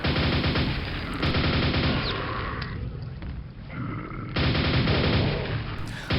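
Shotgun blasts and heavy weapon fire in the shooter Quake, played on a single-player map, come as dense, loud repeated bangs with roaring game effects and no pauses.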